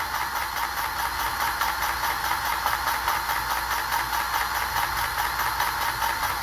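Somero concrete screed machine's drive engine winding up, a steady mechanical drone with a harsh midrange whine running continuously and fairly loud, no voices.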